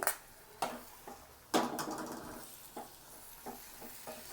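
Prawns are stirred into a sambar-powder curry in a pan, with a few sharp utensil scrapes and clinks over a faint, steady sizzle, close and moderately quiet.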